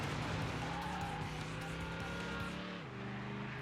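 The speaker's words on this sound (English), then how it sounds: "Oh, I hit the handbrake." A car in the PS2 racing game Need for Speed: Hot Pursuit 2 skids under the handbrake, its tires squealing over a loud, steady engine roar that drops in pitch near the end.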